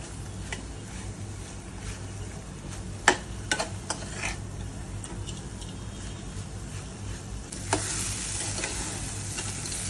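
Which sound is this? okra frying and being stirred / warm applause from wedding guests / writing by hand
okra frying and being stirred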